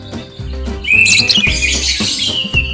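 Lovebird chirping in a series of sharp, bright tweets and trills, fairly close and loud, with a busier burst of calls in the middle and no talking.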